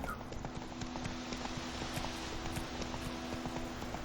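Roach, a horse in The Witcher video game, clip-clops along at a steady walking rhythm, hooves close and continuous over a soft ambient bed with faint background noise.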